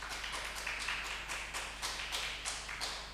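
Church congregation clapping at a wedding during a service, a quiet, distant burst of repeated claps in an uneven rhythm with no talk over it.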